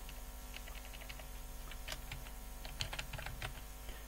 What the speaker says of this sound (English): so let me just type now